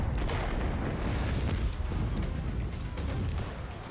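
Dense, continuous gunfire from zombie-shooting action in Killing Floor 2, loud and sustained with heavy low rumble and booming bursts throughout, no voices.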